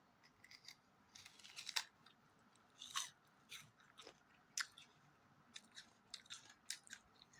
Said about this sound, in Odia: ମୁଁ ଖାଇକି ଆପଣଙ୍କୁ ଦେଖୁଛି କେମିତି ସାଉଣ୍ଡ ହେଉଛି